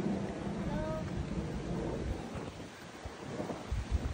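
Strong wind blowing through trees on a hiking trail, a loud gusty rush with buffeting on the microphone and low rumbles, while a person talks over it.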